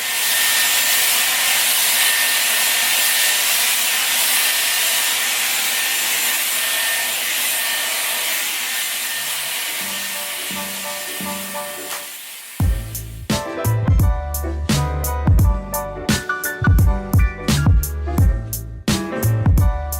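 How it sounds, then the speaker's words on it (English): A Dyson hair dryer blows on the roots of the hair, giving a steady, loud rush of air for about twelve seconds before music takes over. "I find that the hair dryer gives your hair a little bit of volume"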